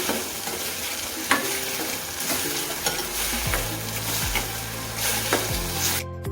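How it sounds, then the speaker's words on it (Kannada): Chopped tomatoes fry and are stirred in a pan for egg bhurji. A steady sizzle runs under a spoon scraping the pan in repeated strokes, with occasional clinks, close and alone with no talk. "ಟೊಮೊಟೊ ಚೆನ್ನಾಗಿ ಫ್ರೈ ಆಗಿದೆ."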